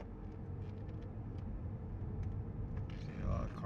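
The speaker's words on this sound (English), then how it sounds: "See a lot of cars now." Road traffic on a street, with cars passing in nearby lanes, heard from a moving vehicle as a steady low rumble that swells slightly near the end; faint speech-like sounds murmur in the background.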